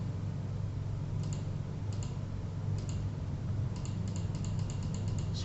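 Computer mouse clicks while designing a logo in graphics software: a few single clicks, then a quick cluster of clicks near the end, over a steady low hum.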